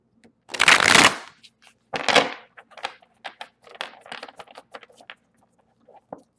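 Tarot cards are shuffled in a few papery riffling bursts, followed by softer scattered taps and flicks as the deck is handled close by, with no talking.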